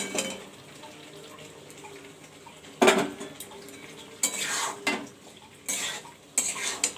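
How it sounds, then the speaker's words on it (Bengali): A spoon scrapes and clanks as spiced chicken is stirred in a cooking pan over a faint background sizzle, with several sharp metallic strikes and scraping bursts coming at irregular intervals. "তারপরে এটাকে ভালো করে নেড়ে চেড়ে কষিয়ে নেব"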